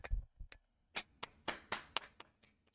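A single person clapping hands, about a dozen sharp claps at an uneven pace, close and fairly quiet, with silence between them.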